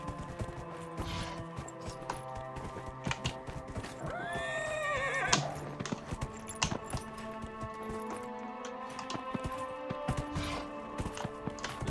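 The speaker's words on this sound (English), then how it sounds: "I can even horse ride up here." Horse riding in the video game Dragon Age Inquisition: steady clip-clop hooves and a whinny partway through, set against continuous game music and ambience, with no talk.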